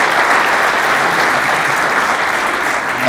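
Dense, loud applause from an audience at a regional football awards ceremony, steady and unbroken throughout with no talk over it.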